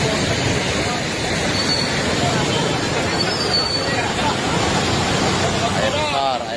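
Floodwater rushes down a swollen river in Sumatra beside a collapsed road, a loud constant churning roar with a voice speaking over it.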